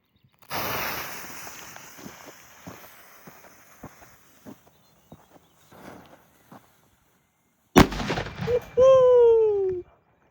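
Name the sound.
C4 firecracker exploding on a lock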